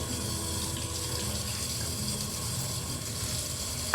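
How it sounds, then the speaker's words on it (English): Spinach leaves are washed under a running tap, giving a continuous, even splash of water into a sink throughout. "I will wash the palak very carefully so that no impurities remain."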